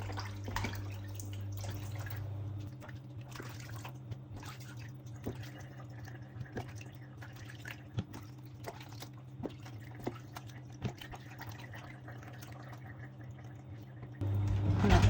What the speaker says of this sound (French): Ensuite, je rince.